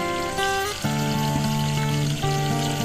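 Water pours steadily out of an irrigation pipe from an automatic garden irrigation system, a close, continuous splashing flow over a humming motor tone that shifts in pitch partway through.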